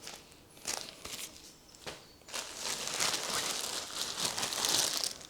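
A plastic bin bag is handled and crinkled close by, with scattered rustles building into steady crumpling and crackling, and no talk.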